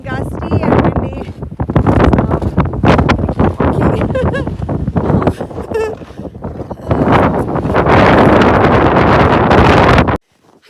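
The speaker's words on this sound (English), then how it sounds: "it's pretty blustery and gusty and windy" Strong gusty wind buffets the microphone on a winter camping trail, roaring in uneven surges with a louder, steadier blast near the end before cutting off abruptly.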